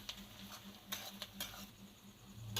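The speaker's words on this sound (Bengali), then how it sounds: "দেওয়ার পরেও কিছুক্ষণ আমি এটাকে নাড়াচাড়া করে একটু ভাজবো।" Tomatoes and onions stirred and fried in a pan with spices for a chicken feet curry: faint sizzling under soft scraping and patter of a spoon, with a few sharper clicks, no talk.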